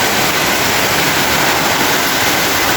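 Water rushes steadily through a newly built backyard canal, a loud, dense, continuous roar like a small waterfall with no break or voices.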